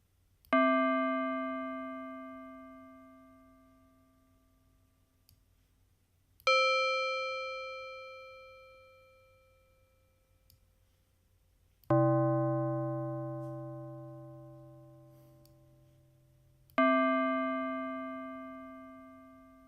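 Dexed DX7 FM synthesis tube bells patch: four separate bell strikes, each a bright metallic chime with a sharp attack and a long ringing decay, spaced about five seconds apart and heard alone.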